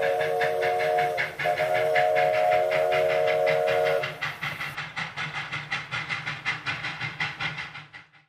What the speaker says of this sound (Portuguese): Feche os olhos e imagine vocês andando num trem desse. Escute o seu barulho.